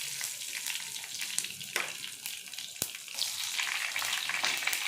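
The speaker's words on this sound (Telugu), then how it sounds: "ఇవన్నీ మంచిగా బాగా చక్కగా వేయించుకోవాలి." Cumin, a dried red chilli and green chillies frying in hot oil as a tempering for a broad bean curry, with a steady close sizzle throughout, a few sharper crackles and pops rising over it, and no talking.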